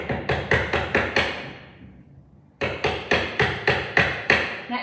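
Hammer strikes on a steel chisel cutting a workpiece for a race car project: two runs of five to six sharp, evenly spaced metallic blows, close and loud, split by a short pause, with no talking.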